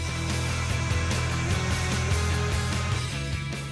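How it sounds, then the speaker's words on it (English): A hair dryer heats a car panel to loosen a sticker, blowing with a steady, continuous whir and hum, close and constant throughout with no talking. "Take any hairdryer, lightly heat up the panel"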